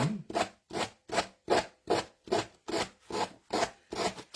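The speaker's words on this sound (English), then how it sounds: "you can just cut it a little bit and it helps you sand it off a little bit better" Hand sanding of a delicate, curved wooden butterfly ornament, held low near a table: about ten steady back-and-forth rasping strokes, close and clear, with no talking.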